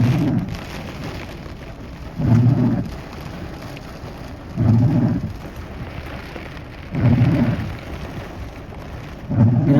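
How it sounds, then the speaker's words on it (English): Thunderstorm with steady heavy rain and gusting wind, broken by deep rolling thunder rumbles that swell roughly every two seconds, loud and close. "Dude, the wind is really picking up."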